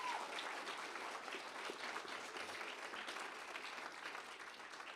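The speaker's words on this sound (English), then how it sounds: "Let's give them a round of applause" An audience at an awards event applauds steadily, a dense wash of clapping that holds evenly for several seconds, with no voices over it.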